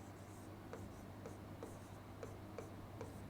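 Chalk or marker writing on a board during an exam-preparation lesson, a series of short, regular scratching strokes over a constant low hum, close and fairly faint.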